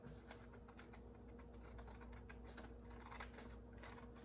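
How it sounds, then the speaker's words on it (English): Quick, crisp snips of scissors cutting paper repeat in an uneven rhythm, close by, over a steady low electrical hum. "Take my scissors and just cut it out."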